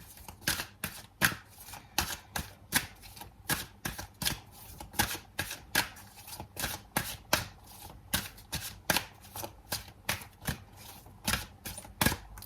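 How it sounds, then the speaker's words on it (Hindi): A deck of tarot cards is handled and shuffled: a long run of quick, crisp card snaps and flicks in a steady rhythm, close and fairly quiet, with no voices. "सबसे पहले तो मैं यहाँ 2 कार्ड निकाल लेती हूँ।"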